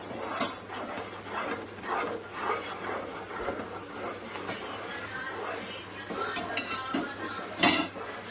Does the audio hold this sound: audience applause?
no